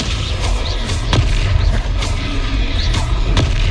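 A Descendo spell cast in the video game Hogwarts Legacy lands as heavy booming thumps amid ongoing combat, several impacts spaced over a few seconds against a steady low rumble.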